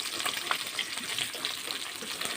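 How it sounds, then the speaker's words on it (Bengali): Falli fish fries in a pan with a soft, even crackle of hot oil, close and fairly quiet, without talk. "দেখো মাছগুলো ভাজা বসিয়ে দিয়েছি।"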